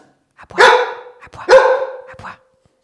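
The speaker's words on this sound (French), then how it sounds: "est-ce que tu peux lui demander d'aboyer sur commande?" Suki, a dog, gives two loud, close barks on command in quick succession, with nothing else heard around them.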